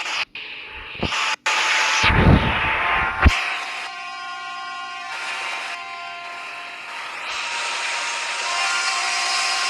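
A subway metro train in a train simulator video game rolls along with a loud rumbling rail drone, hissing bursts and a tonal electric whine, with brief cuts and shifts in sound along the way.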